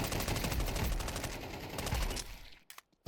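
Rapid automatic gunfire from the video game Counter-Strike rattles loud and continuous, then breaks into a few short separate shots at the end.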